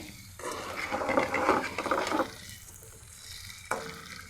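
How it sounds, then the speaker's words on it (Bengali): Potato french fries and onion frying in a pan, a steady close sizzle that swells in the middle and eases off, with a sharp clink of a utensil near the end. "দুই পাশে ভালো মতো ভাজা হলে আমি নামিয়ে ফেলবো"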